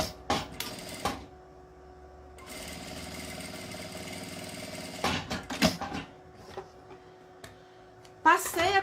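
A sewing machine runs in one steady mechanical whir as it stitches along the edge of a zipper. Brief clatters and handling sounds come before and after the run.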